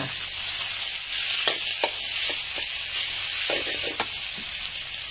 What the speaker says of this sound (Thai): ข้าวเกียที่เราหั่นเสร็จแล้วเรียบร้อย ใส่ลงไปเลยค่ะ